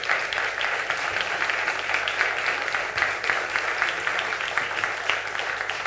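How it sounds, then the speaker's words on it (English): An audience at a school quiz competition claps steadily as the competing teams are welcomed on stage, with even, dense applause throughout. "Please welcome, round of applause,"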